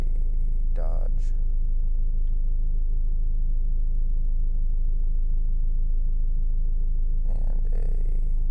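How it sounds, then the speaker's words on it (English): A BMW, Toyota, Acura, Subaru and Dodge pass through an intersection on a green light. A constant low road rumble is broken by a couple of brief, louder swooshes of passing vehicles. "As a BMW goes through a green light perpendicular to us, followed by a Toyota, an Acura, a Subaru, a Dodge,"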